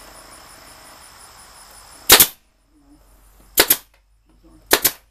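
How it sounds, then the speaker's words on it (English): A staple gun fires three times in a workshop while beekeeping nuc boxes are assembled, each a sharp, loud snap separated by a second or more of near silence. "these aren't expensive nail guns, staple guns"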